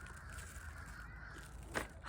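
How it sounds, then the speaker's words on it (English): Crows caw faintly in the distance outdoors at a small Southern homestead, with a short harsh call rising near the end over a low background hum and no talking. "a murder of crows."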